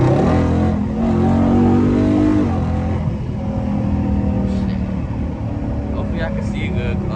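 A Dodge Charger 392 Scat Pack with a Mopar cold air intake revs loudly and continuously, its engine roar rising and falling close by while people talk over it.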